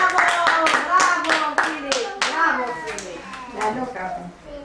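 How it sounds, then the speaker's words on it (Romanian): Young children and adults clap at a school celebration after a child's recitation, the close, uneven hand claps standing out sharply while a voice and other small voices chatter underneath. "Bravo, aplauze, bravo, bravo, Filip, bravo,"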